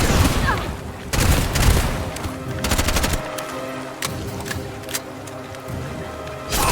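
Heavy-ammunition gunfire in a video game: loud, dense bursts of rapid shots with booming low-end impacts, broken by short pauses, then a rumbling tail and a final burst.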